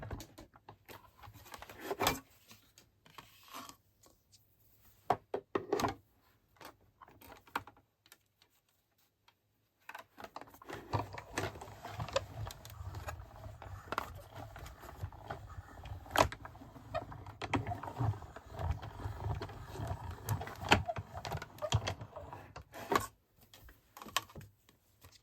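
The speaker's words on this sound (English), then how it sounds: "I'm going to just run this through my cut and emboss machine" Die-cut card run through a cut and emboss machine, a close series of irregular clicks and ticks, a near-silent gap, then a longer stretch of steady ratcheting and grinding.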